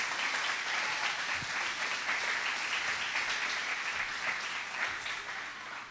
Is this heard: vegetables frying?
no